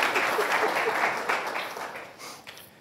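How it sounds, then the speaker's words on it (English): A conference audience at a Supreme Court preview panel claps for a speaker, a brief burst of applause that starts full and gradually tapers off over a few seconds. "I think we should give him a round of applause for achieving his 7 minutes."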